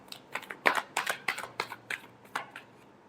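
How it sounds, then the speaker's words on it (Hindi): Tarot cards being shuffled close up, a quick run of about a dozen crisp riffling slaps in an uneven rhythm, alone without talk. "last shuffle"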